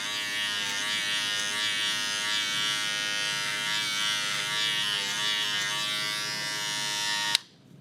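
Electric hair clippers with a guard fitted and the lever open cut hair in a steady close buzz that holds for several seconds, then cuts off abruptly near the end.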